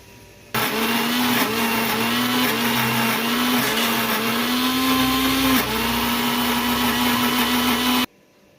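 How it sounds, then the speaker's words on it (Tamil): A kitchen mixer grinder grinds pirandai (adamant creeper) into chutney, starting abruptly and running as one loud, steady whine for about eight seconds before cutting off. "இப்போ வந்து நம்ம இந்த பிரண்டையெல்லாம் அரைச்சி எடுத்துக்க போகிறோம். வாங்க அரைக்கலாம்."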